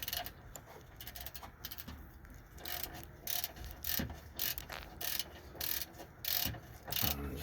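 A hand ratchet clicks in quick repeated bursts while tightening sway bar link fittings on a 2002 Dodge Ram 1500 Sport, close-up and steady with brief pauses between strokes.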